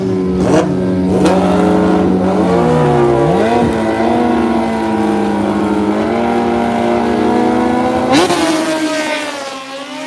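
A ZX14 and a Gen 3 motorcycle roar loud and close at a drag race, their engines holding a sustained droning note that dips and shifts in pitch before a sharp rev near the end.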